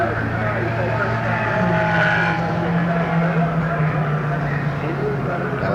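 Race cars, including Holdens, a Falcon and a Mini Cooper S, roar past on the Warwick Farm track in 1969, engines droning steadily with a rising whine, while a commentator talks over the noise.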